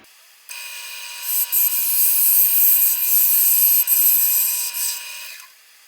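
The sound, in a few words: 3/8 bowl gouge turning chestnut oak on lathe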